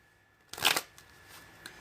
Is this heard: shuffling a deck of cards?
yes